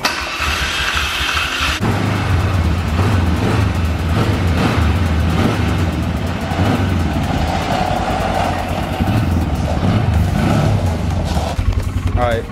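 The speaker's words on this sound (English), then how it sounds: "so can we ride the four-wheeler?" A four-wheeler ATV engine runs and revs while being ridden, a loud continuous drone rising and falling in pitch, with voices talking over it.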